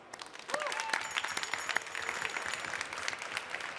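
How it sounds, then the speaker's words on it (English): Audience at a science slam applauding the four performers, a burst of clapping that starts abruptly and holds at a steady, full level over a faint background tone, with no speech. "giving that round of applause to the four slammers now"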